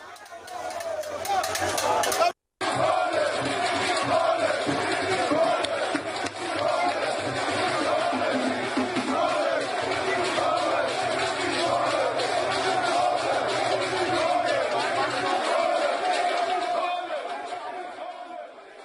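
An angry crowd at the Oba's palace in Benin boos and shouts at a governor, a dense, continuous roar of massed voices, yelling and chatter that stops briefly near the start and then carries on loudly.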